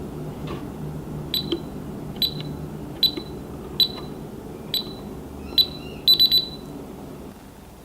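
A series of short, sharp electronic beeps from a Bosch Solution alarm system keypad sound at steady intervals over a low background hum, ending with a quick cluster of beeps.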